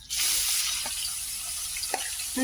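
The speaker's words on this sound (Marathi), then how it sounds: "कांद्याला आपण चांगला परतून घ्यायचं चांगला असं मिक्स करून घेऊ आपण चांगला परतायचं कांद्याला" Grated onion sautéing in a pan with cloves, black pepper and a bay leaf, a loud close steady sizzle with a few soft stirring scrapes, no talk.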